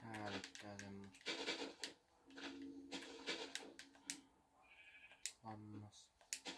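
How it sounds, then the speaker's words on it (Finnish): Sheep in the Minecraft video game bleat in several short, distinct calls scattered among clicks and game noises, with a voice speaking in between. "Lammas."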